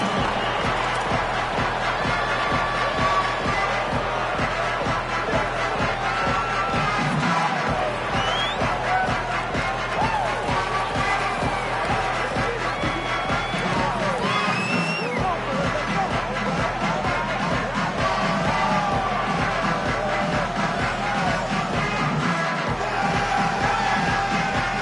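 Home crowd at a college football stadium, Virginia Tech Hokies facing SMU, roars in a steady, dense wash of cheering and hubbub just before kickoff, with a broadcaster's voice running over it.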